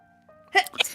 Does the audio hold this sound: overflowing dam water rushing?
no